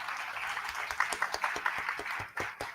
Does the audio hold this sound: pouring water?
no